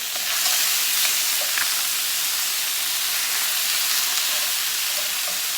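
Chicken frying in a Saladmaster pan with a loud, even sizzle and hiss that carries on steadily without a break, with no talking.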